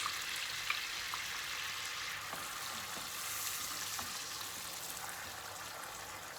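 Tomatoes and garlic sizzle and simmer steadily in a pan, a continuous soft hiss with occasional light stirring clicks.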